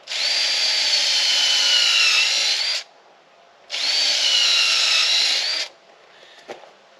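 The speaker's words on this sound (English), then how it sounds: "we'll re-drill this side." Two long bursts of a power drill whirring into wood, each about three seconds, separated by a pause, followed by a light knock.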